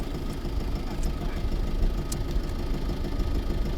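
An oyster boat's engine drones low and steady on the water near an oyster farm, a continuous rumbling hum with a couple of faint clicks above it.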